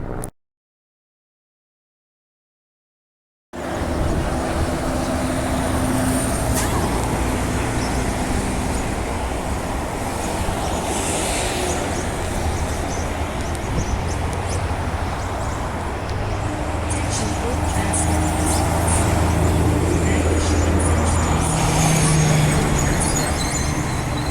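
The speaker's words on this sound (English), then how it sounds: "time to watch the bus and train clips" Steady low rumble of a bus and train passing close by at a station, a continuous roar of engines and traffic with faint higher whines over it, after a brief silent start.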